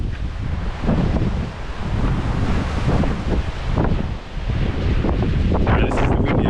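Strong wind gusts across an open ridge, a loud, continuous rumbling roar that swells and dips as it pounds the microphone, with no voices.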